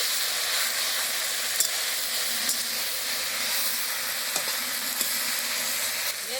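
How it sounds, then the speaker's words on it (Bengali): Mixed leafy greens fry in a pan with a loud, steady hiss and sizzle, broken by occasional scrapes and clinks as they are stirred. "নাড়াচাড়া করে নিলাম"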